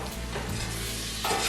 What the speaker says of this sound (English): Butter, just throw it in there.